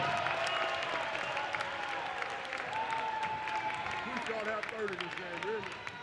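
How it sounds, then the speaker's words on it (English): At a high school basketball game, a gym crowd applauds the Henry Clay girls and boys swim and dive team, a loud steady clapping wash with voices and announcer-like talk mixed in. "Ladies and gentlemen, big round of applause."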